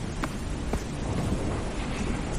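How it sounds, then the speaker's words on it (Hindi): Rain with thunder as a horror-story sound effect: a continuous wash of rain hiss with a low rumble beneath, and a couple of brief cracks near the start. "एकदम से बारिश भी शुरू हो जाती है।"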